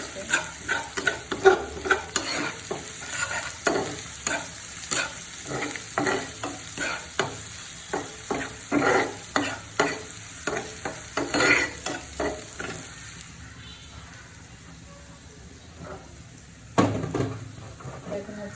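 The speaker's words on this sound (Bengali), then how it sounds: "সেই মশলাটা আমি ডাউলে দিয়ে দিচ্ছি দিয়ে ভালো করে ডালের সাথে আমি এটাকে মিক্স করে দিচ্ছি" A spoon stirring spiced lentil dal with panch phoron and pickle spices in a pan, repeated scraping strokes in an irregular rhythm over a soft background sizzle, close and moderately loud, quieting near the end before one last stroke.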